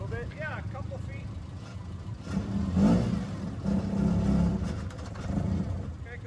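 An engine idles and revs gently as a car backs up a couple of feet beside a truck, a low steady rumble that swells in the middle, with people talking over it.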